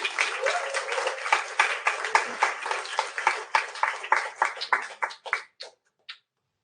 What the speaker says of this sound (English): So can you just give a round of applause for Mark Ellis?